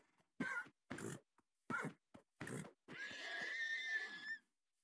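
A horse neighs in a video game, a loud whinny with snorting, coughing-like bursts leading into one long drawn-out call, heard alone without talk.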